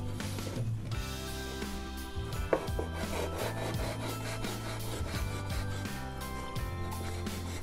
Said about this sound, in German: immer erst so ein bisschen reinschneiden, dann mal drehen, weil manchmal ist der Biskuit noch etwas bockig